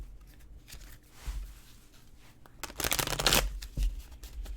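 Tarot cards shuffled by hand in a quiet room, soft intermittent riffling with a louder burst of rapid flicking near the end, close and fairly faint, no talking.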